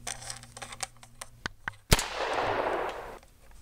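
A single sharp gunshot in an animated Littlest Pet Shop episode, a loud crack followed by a noisy decaying burst, preceded by scattered clicks and short knocks.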